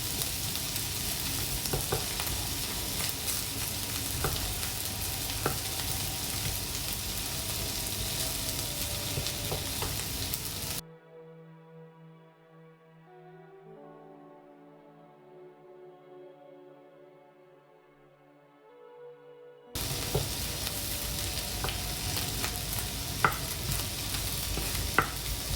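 Two cloves of garlic fry in a pan for a vegan zucchini and tomato sauce, a steady close sizzle with occasional ticks. It cuts out for several seconds while soft tonal music plays, then the frying returns.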